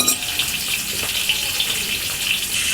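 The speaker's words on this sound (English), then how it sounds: "Arrange the shrimps in the wok and sear with both sides slowly until they are slightly charred." Shrimps searing slowly in a wok over low to medium heat for shrimp fried rice, a steady close hiss and sizzle without pause.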